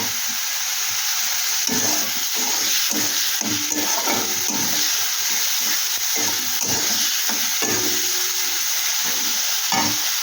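Grated onion sizzles loudly and steadily in hot oil in a pan, close up. Frequent soft scrapes and knocks from a stirring utensil run through it.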